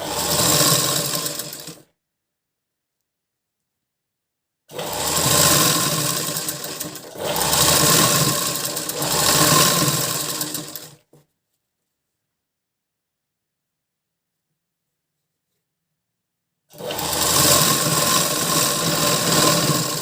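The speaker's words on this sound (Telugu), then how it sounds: "ఇలా కుట్టుకున్న దాన్ని నేను ఇంకా ఇలా ఉల్టా వేసి అనుకుట్టు వేసుకుంటున్నా" A sewing machine stitches a blouse in three steady, whirring runs. Each burst lasts a few seconds and is separated by complete silence, close and clear with no talking.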